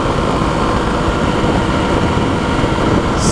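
A Kawasaki KLX300 motorcycle engine held steadily between 6,000 and 7,000 RPM, a loud, constant, buzzing drone with no pauses, close to the listener.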